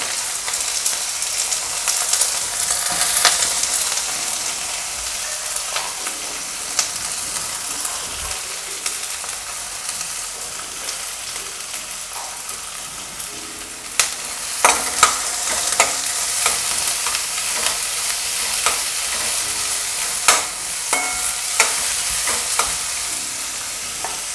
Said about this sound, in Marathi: तर आपला कांदा थोडासा बारीक होत आलेला आहे भाजून.